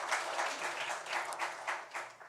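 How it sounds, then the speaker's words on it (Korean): A church congregation applauds during a Sunday worship service, a steady wash of clapping at moderate level that swells and dips slightly, with no voices over it. "우리 하나님께 영광의 박수 올려드리겠습니다."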